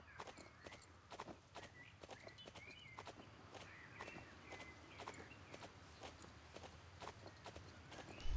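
A horse trots over ground poles, steady rhythmic hoof clops with occasional sharper knocks, moderately distant and fairly quiet against an outdoor background.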